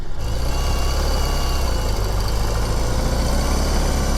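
2021 BMW R 18 motorcycle engine pulling away, a steady loud low drone with a faint rise in pitch, heard close throughout with no speech.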